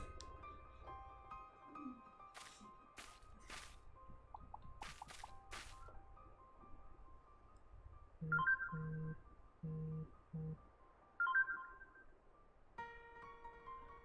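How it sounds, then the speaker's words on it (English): Phone notification chimes sounding during a Final Fantasy XIV: Shadowbringers play session, several short bright tonal alerts at irregular intervals, fairly quiet and without talk. "Notifications on my phone."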